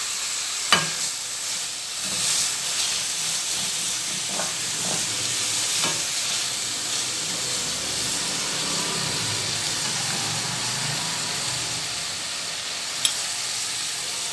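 Masala is stirred into okra frying for achari bhindi, a steady broadband sizzle running throughout with a few sharp spatula scrapes against the pan, no voices.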